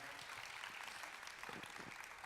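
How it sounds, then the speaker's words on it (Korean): An audience at a talk concert gives a short, faint round of steady applause for two speakers, a soft continuous patter without talk over it. "오늘 좋은 말씀해 주신 두 분께 박수 부탁드리겠습니다"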